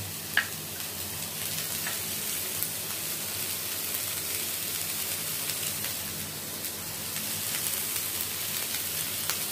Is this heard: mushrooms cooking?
yes